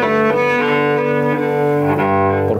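Sustained cello chords played separately inside a church, rich bowed tones that blend and ring on with long reverberation, loud and close, with no voices.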